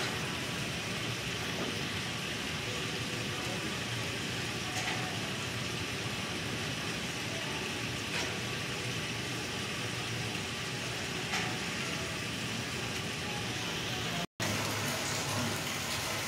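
A water pump motor, just switched on at a site inspection, runs with an unbroken rumbling hum mixed with rushing noise, cutting out for an instant near the end before resuming.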